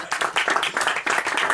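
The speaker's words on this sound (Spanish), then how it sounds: "un aplauso, gracias" A short burst of audience clapping at a reef hobbyists' talk, brisk and fairly close, with individual claps audible in a quick irregular rhythm.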